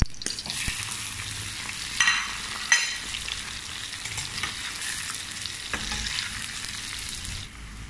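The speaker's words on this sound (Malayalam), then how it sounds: "ചീനച്ചട്ടയിൽ ഓയിൽ ഒഴിച്ചിട്ടുണ്ട്. ഇനി ഇത് ഫ്രൈ ചെയ്തെടുക്കാം." Spiced idli pieces, coated in turmeric and chilli powder, fry steadily in oil in a wok, a dense close sizzle with a few louder crackling bursts and stirring clinks.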